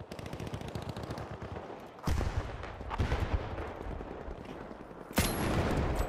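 Rapid bursts of gunfire crackle in a video game, with fast repeated shots followed by sharper louder volleys, dense and close, with no voices.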